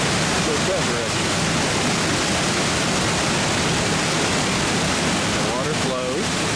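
Water flowing steadily in Cloudland Canyon, a continuous broadband rush like a stream or small waterfall, loud and even throughout with no other clear sounds.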